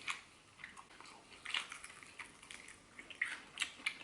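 Crispy air-fried chicken being bitten and chewed close to the mic, with a run of light, sharp crunches in uneven bursts against a quiet background and no talking.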